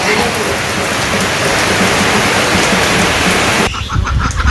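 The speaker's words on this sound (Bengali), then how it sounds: "এখন সিটি সিটি বৃষ্টি পড়তেছে" Heavy, steady rain pouring down on a Bangladeshi village in a dense hiss, loud and close, easing abruptly near the end to scattered drops.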